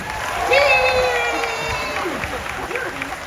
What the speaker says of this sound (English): Let's give a big round of applause for Selena Arvizo, everybody.